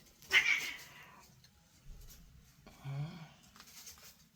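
A cat meows once, fairly close and clear, with a second fainter, lower cry a couple of seconds later against a quiet indoor background.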